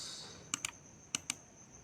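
Keys tapped on a computer keyboard for a Ctrl S save: four sharp, close clicks in two quick pairs over a quiet room hum, with no speech.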